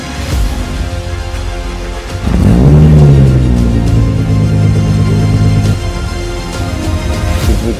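Razor GTR supercar, a 1,000-horsepower build running on pump fuel, starting with a steady idle before a loud, close rev that rises and then holds at a high, throaty drone, easing off slightly near the end.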